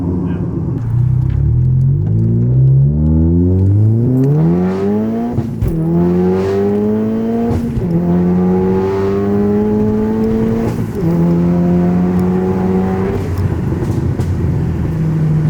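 A manual Volkswagen Golf R tuned to 407 bhp pulls hard through the gears, its engine note climbing steadily in pitch with brief dips at each shift. It is loud and continuous from inside the car, with voices talking faintly underneath.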